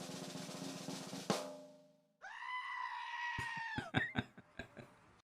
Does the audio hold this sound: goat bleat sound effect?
yes